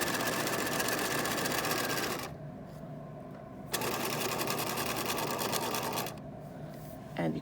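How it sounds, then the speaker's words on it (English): A sewing machine stitches around a zipper pouch in fast, steady, close runs, pausing twice briefly before restarting, with someone speaking softly at moments. "And you keep sewing around."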